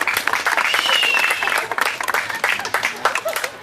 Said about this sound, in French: je pense que ça s'applaudit